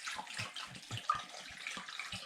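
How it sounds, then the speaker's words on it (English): Cold water poured from a tap onto bones in a pot for bone broth, a faint splashing trickle with soft rhythmic sloshing pulses. "Let's add just a little bit of water to it."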